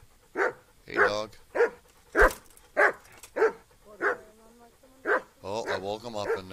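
A dog in Kingdom Come Deliverance barks in a series of sharp, close yips and whimpers, roughly ten bursts in an uneven rhythm, a few overlapping at the end.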